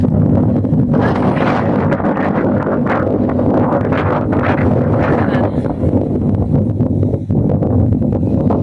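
Strong wind roars and buffets the microphone nonstop on the Appalachian Trail in Virginia, loud gusty rumbling that swells and dips without pause.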